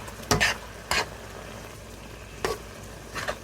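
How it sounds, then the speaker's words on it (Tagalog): Vegetables cooking in coconut milk with sardines get stirred in a sizzling pan, four short scraping strokes breaking over a steady low simmer, close and moderately loud with no talking. "At haluin natin siya."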